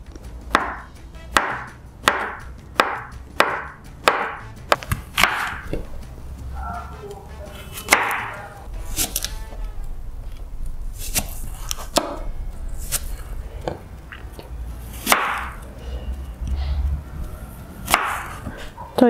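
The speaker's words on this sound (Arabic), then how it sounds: "هبتدي بقى ايه اقطع الفاكهه كلها اللي عندي قطع كده صغيره" Knife chopping fruit such as apples and bananas into small pieces on a board, with a run of quick, evenly spaced cuts at the start and then scattered single chops amid kitchen clatter.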